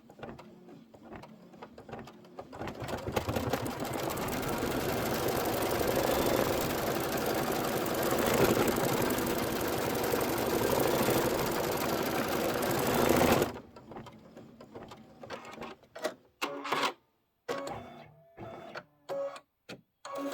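A sewing machine stitches continuously for about ten seconds at a fast, even whir, then stops, followed by a few scattered clicks and handling sounds.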